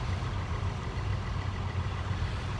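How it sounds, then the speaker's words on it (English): A tanker tractor engine runs steadily at idle on a farm, a constant low rumble with no change in pitch or loudness, heard on its own at moderate distance. "the tractor started."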